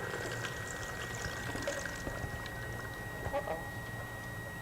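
Hot soaking water drained off raw cashews, a steady continuous pour with a soft trickling, splashing texture close by, running the whole time without talk.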